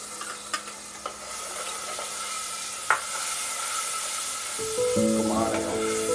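Yogurt goes into sizzling, partly roasted masala for beef keema, with stirring scrapes and a steady fry hiss that swells louder near the end.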